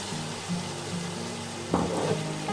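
A cup of peas goes into a pan of softened, sizzling tomatoes: a continuous frying hiss with a faint low hum, broken near the end by a sharper burst of crackle as the peas hit the oil.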